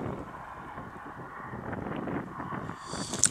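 Strong outdoor wind buffets a camera microphone in a Kharkiv park, a low, uneven rumble with gusts that swell and fade over the few seconds.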